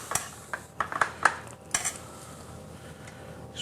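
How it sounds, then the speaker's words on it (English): Beef roast set into an induction cookware pan, giving a series of sharp metallic clanks and clatters from the pan over a few seconds, then quieting to a faint background. "just place it right into the pan just like this"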